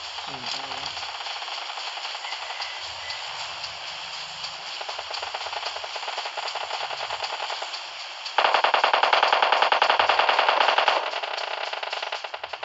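Rapid automatic rifle fire from an M416 in PUBG, a steady distant rattle of bursts running throughout, then growing louder and harsher for a few seconds before easing back.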